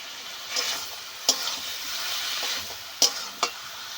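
Cabbage stir-fried in a pan with fried prawns, a steady broad sizzle running throughout, broken by a few sharp spatula scrapes and knocks against the pan.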